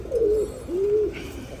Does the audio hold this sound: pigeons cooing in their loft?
yes